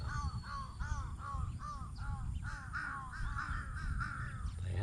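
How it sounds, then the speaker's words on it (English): Several crows caw repeatedly in a busy, overlapping series of harsh calls, fairly loud and near, over low outdoor rumble with no talk. "I'm watching these crows, man. Crows are very smart animals."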